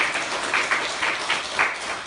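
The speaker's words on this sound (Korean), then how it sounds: "박수라도 한 번씩 해주세요." Church congregation clapping in a single steady burst of applause during a Sunday service, a moderate wash of many hands with no voices over it.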